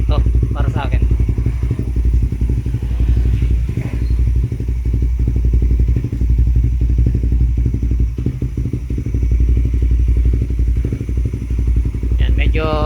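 A Raider 150 Fi motorcycle fitted with a replica Pro GP exhaust idles at low RPM, a steady, even, pulsing putter close by, with light clatter throughout and a voice speaking over it.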